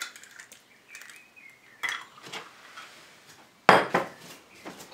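A utensil clatters in a bowl of bread dough ingredients with sugar, salt and eggs, producing scattered scrapes and a sharp knock near the end, close and intermittent.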